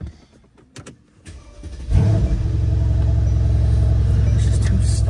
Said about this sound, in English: And let's give this car a fucking cold start, shall we? Race mode, window down.